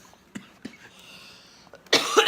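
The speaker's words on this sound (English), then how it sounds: "Excuse me, I have a cough, sorry." A person coughs two short times, then lets out a louder, rougher burst at the end, close and in a quiet room.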